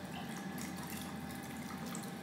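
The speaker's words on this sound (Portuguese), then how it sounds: "Agora, eu vou passar todos os peixinhos da tapoermes, né, aqui pro aquário" Water with small fish is poured from a plastic food container into a home aquarium, a steady continuous splashing and trickling that runs unbroken and fairly loud throughout, with no talking.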